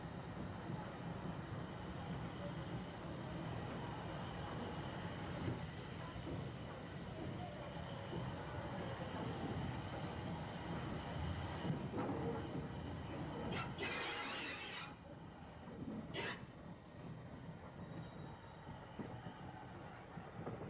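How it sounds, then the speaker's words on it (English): A four-coach train hauled by an 1899-built steam locomotive rolls into Boat of Garten station. It makes a steady low rumble with faint squeals and clanks, and a voice speaks over it. "Here she enters Boat of Garton Station with her 4-coach train."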